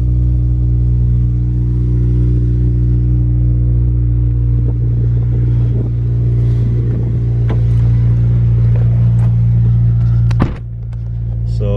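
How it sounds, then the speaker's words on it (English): A Honda Civic Si with an aftermarket exhaust, Skunk2 header included, rumbles loud and deep in a morning cold-start idle, with clicks and small rattles over it before the drone suddenly drops away near the end. "Nice little cold start in the morning."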